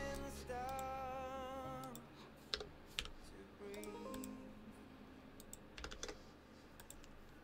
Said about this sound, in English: TGR Jane V2 with 62-gram vintage rounds typing sounds